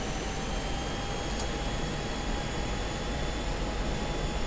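Steady, roaring F-16C jet engine at takeoff power in DCS World, the aircraft heavy with external fuel tanks, a constant broadband rush with a faint high whine throughout.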